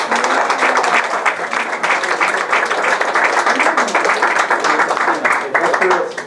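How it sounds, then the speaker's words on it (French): Congregation applauding a newly married couple during a church service and wedding in Avignon, dense continuous clapping throughout with voices mixed in beneath. "vous pouvez les applaudir"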